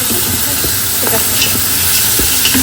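Chicken, onion and vegetables with egg frying in a pan, a steady close sizzle and hiss with scattered clicks of stirring against the pan.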